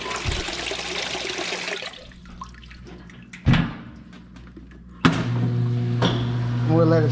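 A washing machine pumping out water after overflowing, with gurgling and draining water, a couple of thumps, then a steady pump hum and trickle close by, with some talk.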